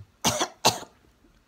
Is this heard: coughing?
yes